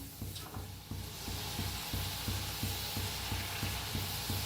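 Mung dal chakli sizzle steadily in hot oil while being turned in the pan, a faint, even frying hiss under a quiet rhythmic musical beat.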